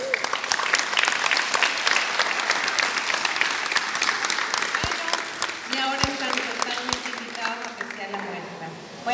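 An audience at a contemporary art biennial applauds the artists with sustained, lively clapping. Scattered voices and cheers rise over it, and a few sharp thumps break through near the end.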